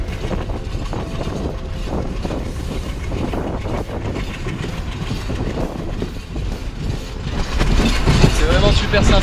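A passenger train in Sri Lanka rolls steadily along the rails with a continuous rumble and faint rhythmic clacking, louder toward the end, with some indistinct voices in the background.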